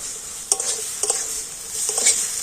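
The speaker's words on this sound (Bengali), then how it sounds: "আলুটা মশলার সাথে একটু ভালোভাবে নাড়াচাড়া করে নেব" Fried potato pieces stirred with masala in a hot pan give a close, bright sizzle, with three or four distinct scrapes of the spoon against the pan at roughly half-second intervals. No one speaks.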